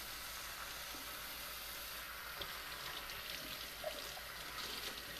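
A kitchen sink tap runs steadily as a coffee cup is washed under it, a continuous hissing water flow with faint clinks of the cup, with no talking.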